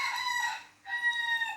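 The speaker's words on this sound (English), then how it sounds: "I'll probably sound like that rooster" A rooster crows in one drawn-out call, pauses briefly, then carries on with a second strained, wavering crow, loud and close with no talk over it.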